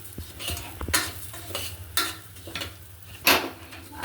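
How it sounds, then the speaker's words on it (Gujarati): Broken wheat for fada lapsi roasts in hot ghee in a pressure cooker over a medium flame. A spoon stirs it in repeated scraping strokes about once a second over a soft, steady sizzle, close and clear, with no talking. "હવે આપણે એને મીડિયમ ફ્લેમમાં આપણે ગરમ શેકી લઈશું।"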